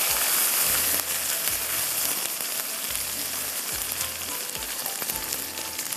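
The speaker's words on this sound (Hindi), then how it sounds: "और थोड़ा इसको हम गोश्त को यहाँ पर भूनेंगे।" Beef pieces fry and brown in a pot for beef pulao, giving a loud, steady, close sizzle with soft recurring thumps from stirring throughout.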